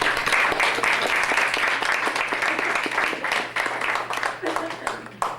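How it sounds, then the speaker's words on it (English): A room at a school district meeting breaks into sustained applause for the board, many hands clapping steadily at moderate volume before it thins out toward the end. "please join me in applauding and congratulating the board."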